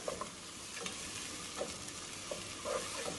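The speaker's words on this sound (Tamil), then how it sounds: "இஞ்சி பூண்டு பேஸ்ட் நல்லா வதங்கி வரட்டும்" Ginger garlic paste sautéing in ghee for a half-kilo chicken biryani, a steady low sizzle with scattered scraping stir knocks throughout, no voices.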